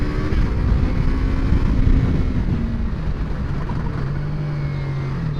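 A Yamaha R3 motorcycle brakes hard from high speed with aggressive downshifts, the engine note dropping and blipping under loud continuous wind and road rush, close up.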